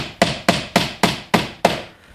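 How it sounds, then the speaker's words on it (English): A hammer drives nails into garage door weather stripping with six sharp, evenly spaced strikes, loud and close, each blow ringing briefly before the next. "so let's nail it up, and then we'll continue on the other side"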